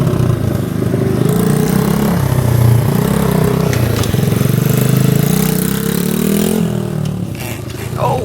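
Motorbike engine revving steadily and loudly up close as the rider pulls wheelies, pitch rising and falling with throttle, with faint voices near the end.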